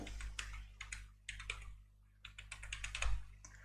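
Keys on a computer keyboard are tapped in quick bursts while a mobile number is entered into a login form, giving close, crisp clicks in irregular clusters with short pauses between them and no talking.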